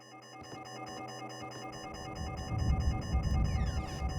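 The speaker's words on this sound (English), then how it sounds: "How did I trigger the alarm by standing there?" An alarm goes off in the detective video game Shadows of Doubt as a steady, repeating electronic beeping pattern, with a deeper rumbling layer building underneath in the second half.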